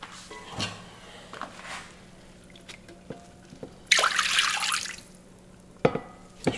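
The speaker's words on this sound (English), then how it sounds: "So I'm going to put the brisket goes in there, and I'm going to put more water." Water splashes and drips into a container holding a brisket being submerged for pastrami, with scattered drips and a louder pouring burst midway, close by and without speech.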